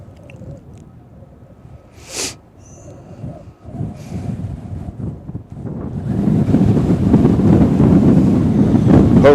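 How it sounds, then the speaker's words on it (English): Strong, cold wind buffets the microphone at Cincinnati/Northern Kentucky International Airport, gusting in bursts and then swelling into a steady, loud roar that does not die down. "Hopefully you can hear that wind. When you think it's about to die down, it doesn't."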